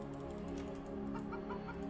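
Chickens cluck softly in the Planet Centauri video game, a low, steady run of small clucks sitting under a dense hum of game music and background noise.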